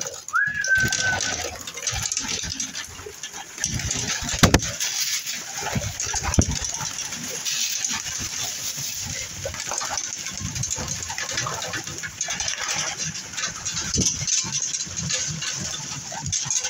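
Racing homing pigeons in a loft give soft, steady cooing and shuffling, with a brief whistle-like note near the start and occasional sharp clatters over a constant background hum.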